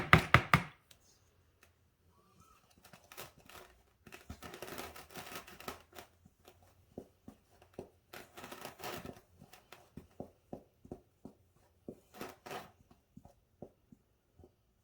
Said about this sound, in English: And then we're gonna whisk this together here